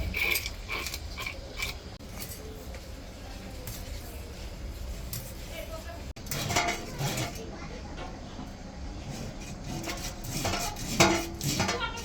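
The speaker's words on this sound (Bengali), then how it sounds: "এই যে মা এখন মাছের আঁশটা এক পিঠ ছাড়ানো হয়ে গেছে, আর এক পিঠ ছাড়াই নিতেছে।" A knife scrapes scales off a snakehead fish in a home kitchen, giving close, repeated rasping strokes with metallic clinks against a pan or bowl, steady throughout with brief pauses between passes.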